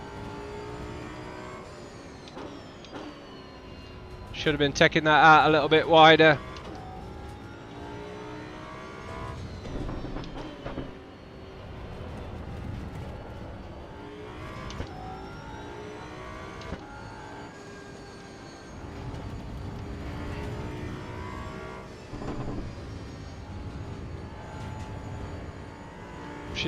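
A Datsun 240Z engine in the racing sim Assetto Corsa EVO hums and revs through gear changes while driven hard at the limit, with a short loud rev burst and someone talking over the engine.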